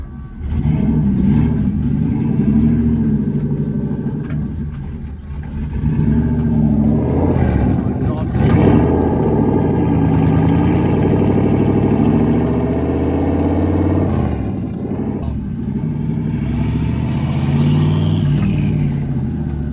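A turbocharged LS1 V8 swapped into a BMW E46 pulls through gears on the road, a loud, rumbling engine note rising and falling with acceleration, plus faint turbo whistle and hiss heard from inside the car.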